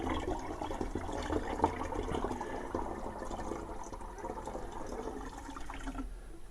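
Homemade wine ingredients poured through a funnel into a container, a faint continuous trickle and gurgle of liquid filling, soft and close, with no voices.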